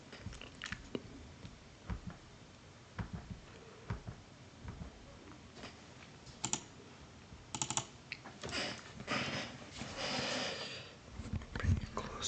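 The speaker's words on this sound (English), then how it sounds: "Listen to this keyboard." Close, soft computer keyboard typing arrives in scattered clicks and short bursts, mingled with quiet mouth sounds in an intimate whisper-style setting, growing busier toward the end.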